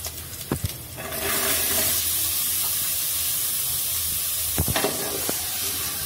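Chopped banana stem for upperi frying in a pan, a steady sizzling hiss with a few sharp clinks and scrapes of stirring near the start and again toward the end.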